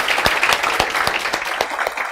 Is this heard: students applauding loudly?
yes